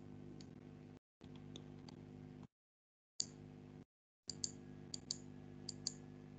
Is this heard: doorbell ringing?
no